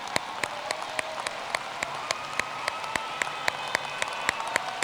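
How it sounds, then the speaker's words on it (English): Steady applause from a large audience at a college commencement ceremony, a dense continuous wash of clapping with a few sharper individual claps standing out, heard from within the crowd. "join me in a round of applause honoring their excellence in education"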